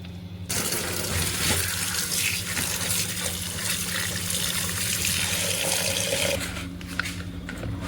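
Tap water runs steadily into a sink while food is rinsed, a continuous close splashing flow that cuts off briefly near the end before resuming, with no talk.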